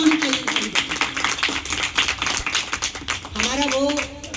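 A gathering at a yagya ceremony claps in uneven bursts, the hand claps sounding under an ongoing speaking voice.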